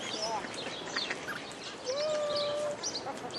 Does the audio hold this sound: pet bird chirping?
yes